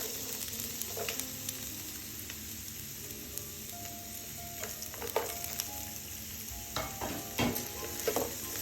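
Chopped ginger, garlic and green chilli fry in hot oil in a frying pan, a continuous soft hiss and crackle with scattered light ticks and scrapes of stirring, close and steady with no one talking.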